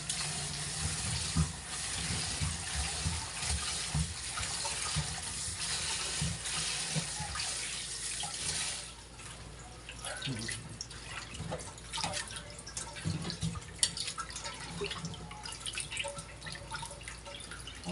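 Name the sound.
washing fish under running tap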